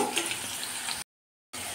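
Diced potatoes frying in oil in a pan for a ridge gourd and potato curry, with a steady close sizzle and light stirring, briefly cut to silence midway.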